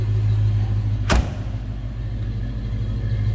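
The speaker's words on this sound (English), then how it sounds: "Nice throaty deep exhaust note." The deep, rumbling exhaust of a 1990 Ford Mustang LX convertible with a 5-liter engine idles steadily nearby, low and throaty, with one brief sharp click partway through.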